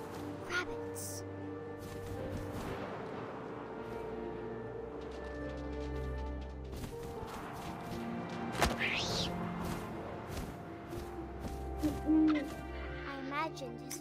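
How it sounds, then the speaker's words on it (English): Owl hooting in the video game What Remains of Edith Finch, a few soft hoots over wind and game ambience, with a voice narrating throughout. "And suddenly, I was an owl."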